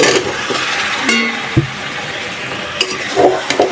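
Prawns and bottle gourd sautéing in a hot pan, a steady close sizzle broken by a few scraping stirs and light clinks of a utensil against the metal.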